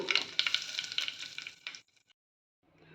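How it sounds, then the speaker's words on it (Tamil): Mustard seeds splutter and pop in hot oil, a dense crackling sizzle up close that quickly dies away into near silence. "கடுகு நல்லா பொரிஞ்சிருச்சு"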